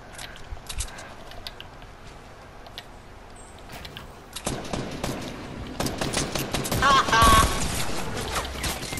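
Gunfire in Fortnite: a stretch of rapid shots that grows busier and louder toward the end, mixed with game noise and a player talking over it.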